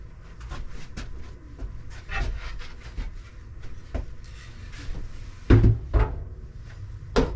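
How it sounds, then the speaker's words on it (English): Objects being cleared off a small woodworking shop table, with a series of close thuds, knocks and clatters, including a louder pair of bumps near the end. "First I just got to clean off my table, and here we go."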